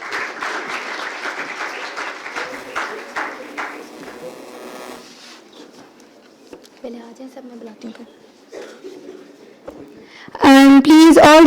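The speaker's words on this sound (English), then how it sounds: "In a huge round of applause." A conference audience applauds during a stage group-photo call, clapping steadily for several seconds, then fading into scattered claps under a voice, before a loud burst of electronic tones near the end.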